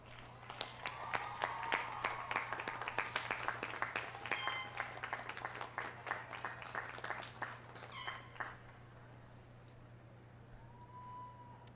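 A crowd at a 2006 College of Education and Integrative Studies commencement applauding graduates' supporters, a sustained patter of many hands clapping with some whoops, heard at a distance over a low steady hum, thinning out toward the end.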